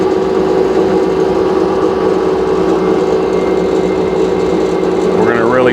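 A used 1/4-inch by 12-foot Bertsch initial pinch power roll, model 8640, rolls sheet metal with a loud, steady mechanical drone and hum that holds evenly throughout, changing slightly at the very end.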